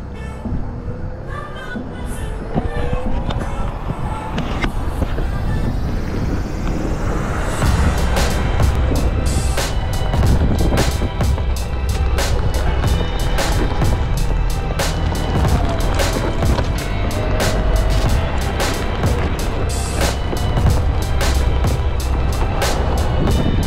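Onewheel GT-S electric board ridden over an off-road Tough Mudder course, giving a steady, loud rumble of wheel and terrain noise with dense rattling and clatter that grows rougher after the first few seconds.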